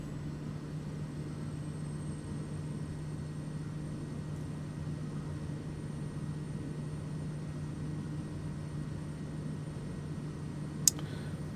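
Steady low propeller-aircraft engine drone holds constant through a slow, smooth landing approach toward runway 02 at a Papua New Guinea highland bush strip in MS Flight Simulator, with a single sharp click near the end.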